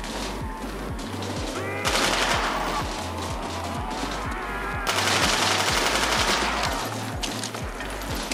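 Rapid automatic weapon fire in Black Ops 1 Zombies, a loud steady rattle of repeated shots with a regular low thump underneath, running without pause across the whole stretch.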